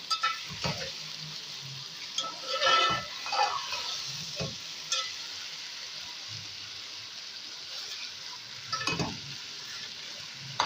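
Potato bhujia with spices being stirred in a sizzling pan, intermittent scraping and stirring strokes over a soft continuous frying hiss, close and moderately loud with no talking.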